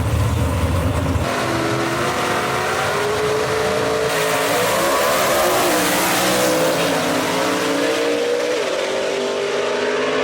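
A B/GAS gasser drag race car roars hard off the line at Kil-Kare Dragway, its loud engine note climbing steadily through the gears as it pulls away, with no voices.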